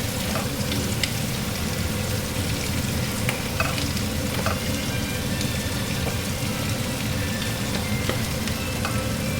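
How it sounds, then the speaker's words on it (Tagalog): Shrimp sautéing with garlic in a hot pan, a loud continuous sizzle with occasional scrapes and clinks of a spatula stirring through it. "Tapos hahaluin ko."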